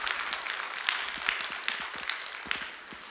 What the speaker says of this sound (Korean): 한번 박수 한번 쳐줘요.